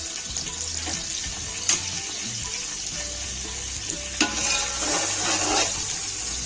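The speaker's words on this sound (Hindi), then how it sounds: "प्याज अच्छे से हमारा फ्राई हो रहा है, गोल्डन कलर का है।" Onions frying golden in a pan for beef champ pulao, a steady bright hiss and sizzle of hot oil, close and continuous, with occasional clinks and stirring knocks.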